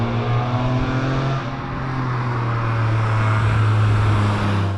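A BMW E46 M3 engine drones and revs with a strong, steady low tone that dips briefly and then climbs again, close by and loud.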